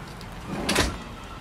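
Side door of a 1974 Volkswagen Kombi camper van opening, a single close sliding clunk with a brief rattle lasting under a second.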